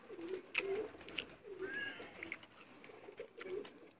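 Soft, low cooing from a pure Imamdin pigeon repeats in a steady rhythm, close by, with a few faint higher chirps over a quiet background.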